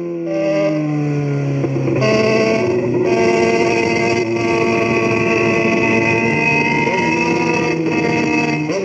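A Yamaha XJ6 motorcycle accelerating hard on a highway, its engine note climbing in pitch through the gears with brief dips at shifts, loud and close with wind roar underneath.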